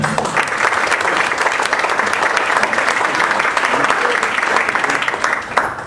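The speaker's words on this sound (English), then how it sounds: "So let's give a big round of applause to Ross." Loud, sustained audience applause fills a lecture hall for several seconds, steady clapping from a large crowd that fades slightly at the end.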